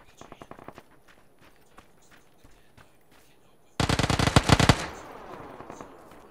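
A light machine gun fires in a shooter game: a short rattling burst first, scattered footsteps and quieter shots, then a loud sustained burst of rapid automatic fire near the end.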